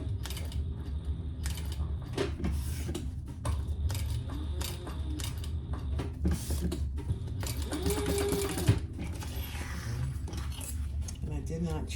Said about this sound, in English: So I'm just sewing around the outside edge.